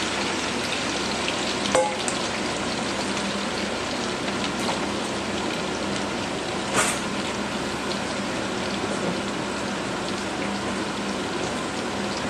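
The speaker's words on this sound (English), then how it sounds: "It's supposed to be like stir frying almost the potatoes" Potatoes for a Spanish tortilla sizzle and crackle steadily as they stir-fry in a hot pan, a constant fizzing hiss with a few sharper pops and scrapes.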